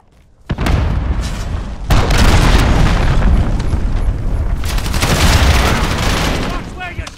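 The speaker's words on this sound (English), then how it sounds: "Allied cruise missile launched." Heavy booms and blasts from an allied cruise missile strike in Call of Duty: Modern Warfare multiplayer on Xbox, a sudden loud impact followed by sustained rumbling explosions and gunfire-like bursts, with a second surge midway and voices mixed in.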